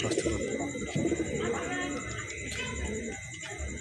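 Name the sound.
Chandrakhani Rampuri pigeons cooing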